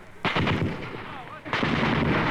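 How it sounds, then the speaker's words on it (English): Booming blasts of mortar and gunfire ring out on a basic training night infiltration course at Fort Dix, New Jersey. Two loud, rolling reports follow each other about a second apart, with a voice faintly underneath. "The mortar rounds that we will be getting will be illuminating rounds."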